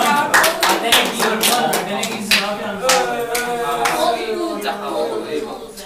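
A small group of students in a classroom clapping for a classmate, with distinct individual claps in loose rhythm, close by, and voices talking over the clapping.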